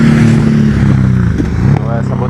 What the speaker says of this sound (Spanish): Si grabo también a estas motillos.